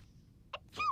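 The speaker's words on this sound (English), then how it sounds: "Y'all don't even care that somebody sneezed under the box?" A cartoon character gives a short, faint sneeze from under a box: a quick puff followed by a voiced, falling 'choo'.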